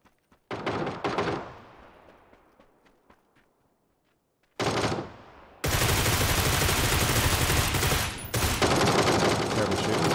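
Bursts of automatic gunfire in PUBG on console: a rapid volley early on that trails off into echoing shots, then after a pause a sustained, loud barrage of close, continuous firing that runs to the end.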